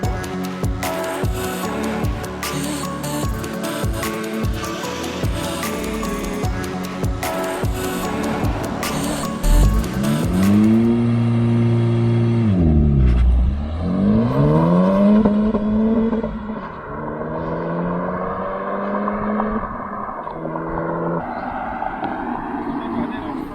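A Toyota GR Corolla engine revs hard and climbs through rising pitches as the car launches and accelerates, shifting gears, with people talking over the roar.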